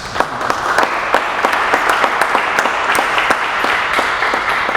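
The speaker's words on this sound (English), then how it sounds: "Dr. Peter, big round of applause" An audience applauds an award recipient at a research award event, steady loud clapping from many hands that fills the room without pause.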